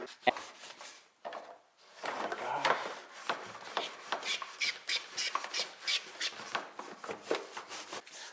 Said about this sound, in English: Just spray with soap, water, and agitate with a brush.